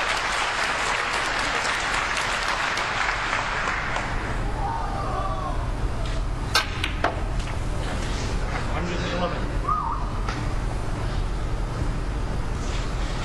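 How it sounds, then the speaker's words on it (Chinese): An audience at a snooker match breaks into sustained applause, a dense continuous clapping throughout, with a commentator talking over it. "各位请不要吝啬自己的掌"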